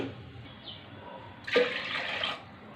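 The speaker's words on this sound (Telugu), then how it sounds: "ఈ కప్పుతో నేను 2 కప్పులు నీళ్ళు పోసుకుంటానండి" Quiet at first, then a short burst of water pours from a cup into a pot, splashing for about a second before fading back to near silence.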